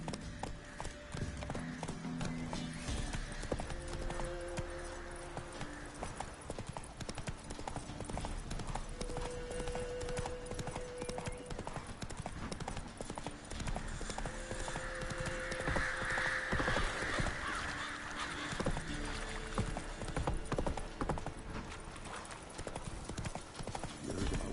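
Steady hoofbeats of the horse Roach galloping in The Witcher 3, a continuous rhythmic clip-clop running throughout with a brief whinny, game music and background voices underneath.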